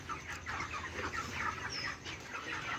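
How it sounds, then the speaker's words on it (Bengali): Broiler chickens on a poultry farm cluck in a dense, continuous chorus of soft, overlapping calls, steady and moderately quiet throughout. "তো আপনারা দেখছেন এই মুরগিগুলো প্রায় রেডি।"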